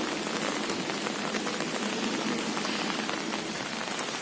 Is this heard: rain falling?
yes